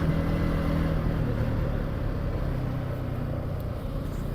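A Yamaha MT-15 155cc naked motorcycle's engine rumbles steadily and close, with a continuous low drone and no talk over it.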